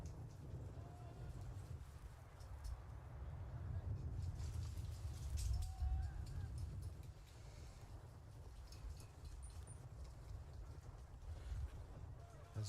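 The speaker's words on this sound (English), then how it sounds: "The wind really picking up." Gusty wind roars steadily across an outdoor soccer field at Silverbacks Park during a live amateur match, a low continuous rumble swelling and easing throughout, with faint distant sounds scattered on top.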